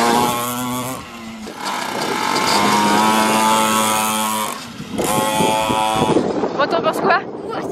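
A cheap used motorcycle revving as it rides around nearby, its engine note climbing and falling through gear changes with a short pause, then pulling away again with rougher bursts near the end.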